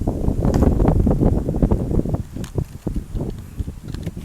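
Gusty outdoor wind buffets the microphone in a steady, loud low roar that swells and dips over a few seconds, heard during a durian-eating outing in rural Thailand.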